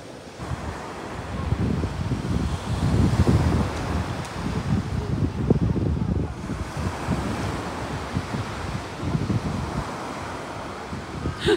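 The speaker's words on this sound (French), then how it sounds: "La plage de Bosnéra, franchement, c'est une très bonne plage." Ocean waves rolling onto the beach at Bouznika, Morocco, a broad continuous surf roar swelling and easing, mixed with strong wind buffeting the microphone and no speech.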